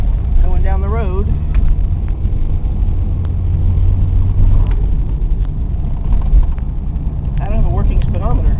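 A car driving down a neighborhood road with a faulty speedometer, carrying a steady low engine drone and road rumble from inside the cabin; a voice talks briefly over it near the start and end.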